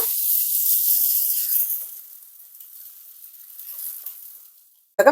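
A ragi roti laid on a hot tawa greased with a little oil sizzles with a bright, steady hiss that gradually softens and fades, ending in a short clatter.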